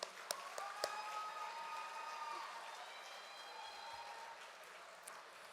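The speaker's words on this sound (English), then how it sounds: "Give them a round of applause, please." Audience applause for sponsors at an awards event, a steady, moderately faint wash of clapping from a room of people, with a few brief whistles or tones over it.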